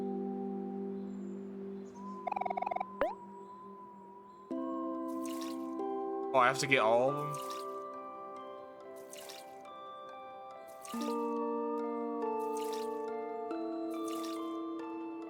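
Watering plants with a watering can in the video game Omori: short, bright watery splashes repeat at steady intervals over background music, with a voice talking partway through.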